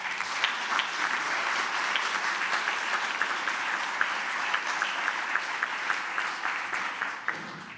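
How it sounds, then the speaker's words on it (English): An audience at a nursing and midwifery faculty festive gathering gives a sustained round of applause, dense steady clapping throughout with a few sharper individual claps near the end. "Can we have a big round of applause?"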